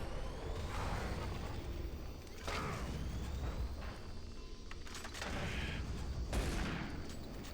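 Grenade blasts and gunfire in Doom 3 come as a dense, continuous barrage with several louder booming bursts rising out of the steady crackle.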